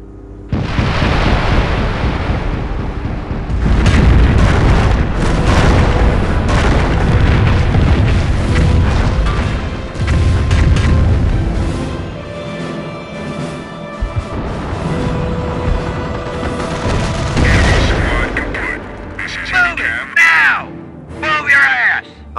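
In the Normandy campaign of the World War II strategy game Company of Heroes, 88mm guns and artillery fire off repeated heavy booms and blasts, some close and loud, some more distant, amid battle noise and soldiers shouting.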